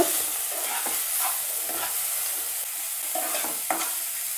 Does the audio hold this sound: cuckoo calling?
no